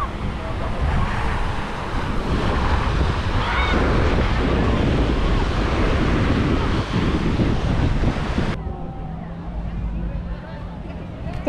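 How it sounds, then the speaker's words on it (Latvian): Strong wind buffets the microphone while big sea waves surge and wash on a Thailand island coast, a loud continuous roar that drops sharply near the end. "stiprs vējš, lieli viļņi"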